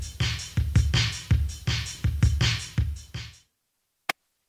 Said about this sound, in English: and a lean drum sound like this.